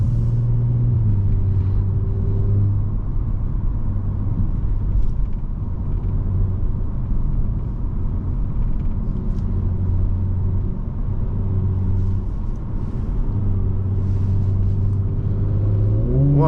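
A 2020 Audi S4 3.0T Prestige driven on country backroads, its engine a steady close low hum with gentle pitch shifts as it cruises and eases through corners, no talk over it.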